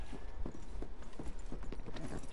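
Horse hooves clip-clopping in a Red Dead video game, a steady trotting rhythm of close, clear hoof beats with no talk over them.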